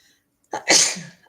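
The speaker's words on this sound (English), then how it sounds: "I think I'm going to sneeze" A single sneeze, close and loud, with a short sharp intake of breath followed by an explosive burst that trails off.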